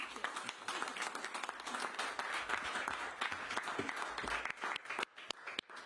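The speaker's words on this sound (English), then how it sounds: "A big round of applause to Mayor Adams" Audience applause for New York City Mayor Eric Adams at an early education plan event, a fairly quiet stretch of many hands clapping together that thins out into a few scattered claps at the end.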